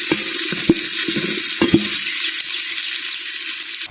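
Ginger and garlic fry in hot oil with a steady bright sizzle, broken by several short scrapes and knocks of a stirring spoon against the pan early on, then settling into continuous sizzling.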